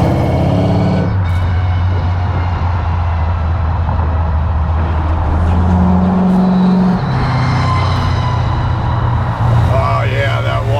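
A custom work truck's engine runs loud and close from inside the cab, a steady drone with a rising whine and shifting revs, while people talk over it throughout.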